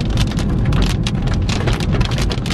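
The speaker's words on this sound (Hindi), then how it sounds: "और यहाँ पे बारिश हो रही है।" Rain patters hard and continuously on a Honda Civic driving on GT Road, a thick wash of drops striking nearby surfaces over a low rumbling undertone.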